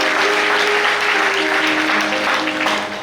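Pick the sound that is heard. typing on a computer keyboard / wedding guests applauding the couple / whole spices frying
wedding guests applauding the couple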